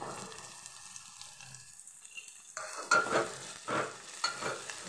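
Onion and green chili sautéing in a pan for a simple village-style vegetable dish, a soft sizzle with stirring scrapes that turn louder and more rhythmic partway through, close by with no talking.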